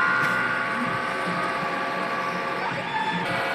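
A DTF printer with freshly replaced heads runs a strong head-cleaning cycle, giving a steady mechanical whir with faint ratcheting clicks close by. Low background chatter sits underneath.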